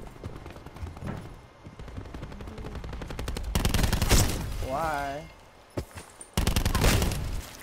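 Attack chopper gunfire in Call of Duty: Black Ops 4 hardcore team deathmatch, bursts of rapid automatic fire and heavy shots in loud clusters, with a voice speaking briefly between volleys.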